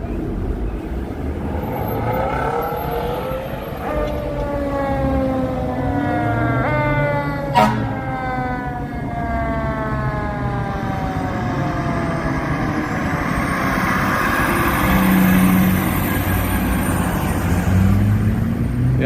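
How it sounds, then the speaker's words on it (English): Fire department ladder truck wailing down René Lévesque Boulevard in Montreal at night, its siren rising and falling in repeated sweeps with a sharp horn blast, passing amid city traffic noise. "Here comes the ladder truck."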